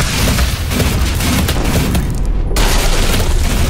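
Heavy gunfire in the video game Doom SnapMap, a loud continuous barrage of booming shots and blasts that briefly thins toward the middle before resuming at full force.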